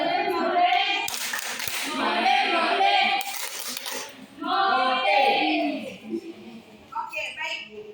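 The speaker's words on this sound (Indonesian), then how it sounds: "Kita tepuk salut untuk Yosef ala Jawa." Indonesian primary-school class giving a Javanese-style salute clap: two short, sharp bursts of group clapping break up a woman teacher's speech and children's voices in a classroom.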